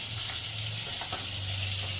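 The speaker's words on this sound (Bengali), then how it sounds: "যে মাছ ভাজছি, ভোলা মাছ" Bhola fish fries in a pan in a home kitchen, giving a steady, even sizzle that holds close and unbroken throughout, with no voices.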